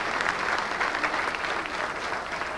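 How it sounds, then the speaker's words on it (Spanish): Dense, steady applause from an audience at a Catholic preaching talk, a continuous wash of many hands clapping throughout, fairly loud with no voices over it. "Gracias le damos al hermano que nos ayudó y le damos un aplauso también."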